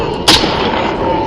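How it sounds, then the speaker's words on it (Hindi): A single sharp rifle shot cracks out loud and close in a state-honour funeral salute for Maulana Wali Rahmani in Bihar, fading quickly into a low murmur of outdoor background noise. "राजकीय सम्मान में चलनी थी 10 गोलियां, पर प्लेबैक में चली सिर्फ 4"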